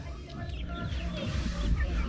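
Backyard pet chickens clucking at close range, overlapping throaty calls and chirps over a low rumbling background.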